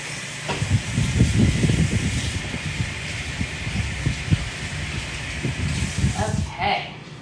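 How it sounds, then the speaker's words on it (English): Tap water runs and splashes as sticky hands are washed, with bursts of rubbing and splashing over a steady hiss, close and fairly loud, ending with the flow cutting off. "I'm gonna wash my hands since they're rather sticky"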